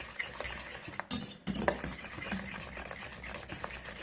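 A strawberry jam dessert mixture is stirred close up with a spoon, scraping and clinking against the bowl in an uneven rhythm, with a couple of sharper knocks.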